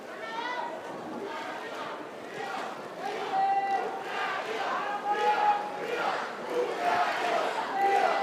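A home crowd roars and shouts steadily through a women's water polo match between Hungary and Colombia in Budapest, with a commentator talking over the crowd.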